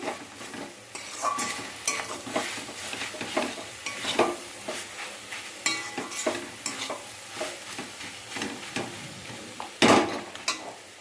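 Poppy seeds being stirred into a frying pan, with a steady sizzle under irregular scraping and stirring strokes and a few sharper utensil knocks against the pan, close and moderately loud throughout.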